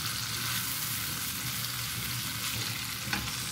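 Tomatoes sautéing in a pan for Filipino-style picadillo, a steady, close sizzle and crackle of frying that runs unbroken throughout, with no talking.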